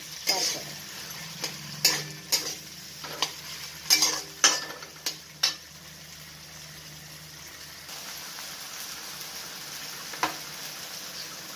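Faint sizzle of onions frying in a pan beneath a series of sharp metallic scrapes and clinks as a utensil stirs the pan, then the sizzle continues alone.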